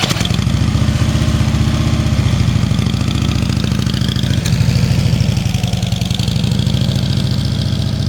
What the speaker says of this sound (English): be able to ride the motorcycle at about a quick walking pace without putting your feet down